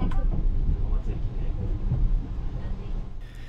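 The Sunrise Seto sleeper train runs through Japan with a low, rumbling interior drone and faint rhythmic rattling, a steady, muffled wash of noise throughout.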